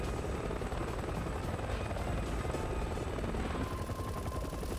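A helicopter in the video game Resident Evil 6 gives a steady, loud rotor roar that fills the whole stretch, with faint rattling bursts that may be gunfire mixed in.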